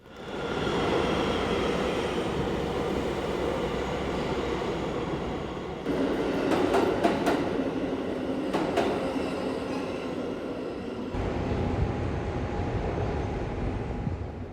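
A New York City subway train in Brooklyn rumbles steadily with rolling wheel noise, brief metallic squeals and clicks partway through, recorded from close by with no talking.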